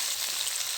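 Potatoes just dropped into a pan fry with a soft, even sizzle, a faint and very short burst of hissing with no talk over it.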